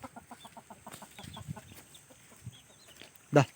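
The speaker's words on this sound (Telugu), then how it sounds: "చూడండి ఫ్రెండ్స్ పుంజులు ఎలా ఉన్నాయి" Fighting roosters cluck in short repeated bursts close by, with other birds and fowl calling faintly, then one sharp loud squawk at the end.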